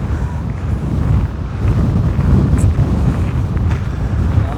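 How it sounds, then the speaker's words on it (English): Strong wind gusts roar across an open outdoor grassland park near a car park, buffeting the microphone in a loud, continuous rumble with no talking. "That is windy, that."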